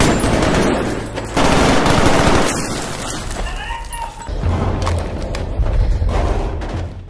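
Rapid bursts of gunfire inside a tunnel crackle and boom with a reverberant, enclosed echo, loud and continuous, with some voices faintly mixed in.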